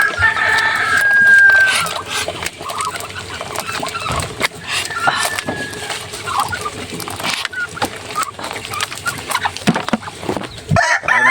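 Ducks cluck and call steadily across a busy farmyard while feeding, with bursts of squawks and crowing-like cries, fairly close and loud, with little talk.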